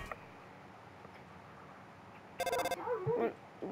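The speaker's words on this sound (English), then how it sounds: "A notification just came, said 10." A short electronic phone notification chime rings out once, a bright tonal burst followed by a brief sliding tone, over a quiet background.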